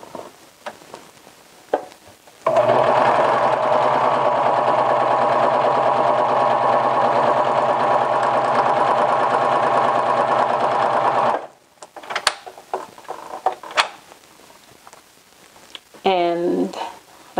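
A serger sewing machine stitches a practice seam on fabric, whirring in one loud, steady run of about nine seconds, with quiet talk and handling before and after.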